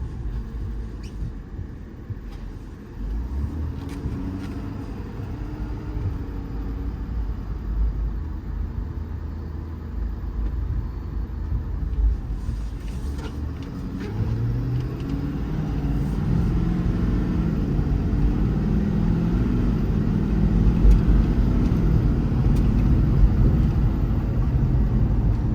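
A 2021 Ford F550 diesel extended-cab mechanics truck with a crane body, driving down the road: a steady low engine drone and road rumble that builds gradually as it shifts through the gears.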